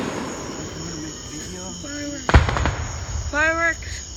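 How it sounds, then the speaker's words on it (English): Fireworks bursting outdoors over a river at night, a sharp loud bang followed by crackling, with faint bird-like chirps and distant pops around it. "Fireworks."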